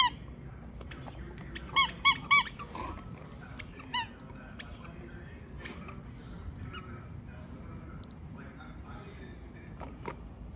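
A squeaky dog toy being played with, giving a few sharp, high squeaks in a quick cluster near the start and one more shortly after, over a noisy room with faint background sound.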